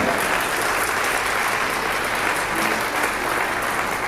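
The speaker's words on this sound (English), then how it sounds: "Give them an applause" Steady applause from an audience rewarding musicians who have just sight-read a piece, a continuous, moderately loud patter of many hands with no pauses.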